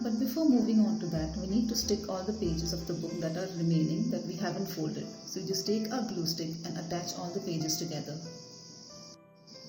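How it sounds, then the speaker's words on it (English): Steady high-pitched cricket chirring runs throughout, faint and continuous beneath a person talking at close range. "I can hear the crickets chirping behind me."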